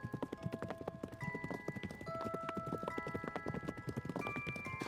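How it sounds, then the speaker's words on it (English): Horses galloping, a rapid close clatter of hoofbeats running continuously with a brief whinny mixed in. "I could already hear the hoofbeats of the figure and its horses gaining on us."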